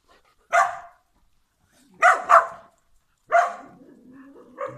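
A dog barks four times in short, loud bursts spaced about a second apart, with a pair of quick barks in the middle and a faint whine after the last one.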